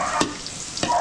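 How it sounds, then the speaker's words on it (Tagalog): Garlic sizzles in a pan in a Filipino restaurant kitchen as pancit is started, a soft steady frying hiss broken by two sharp stirring scrapes. "So, lalagay na tayo ng bawang."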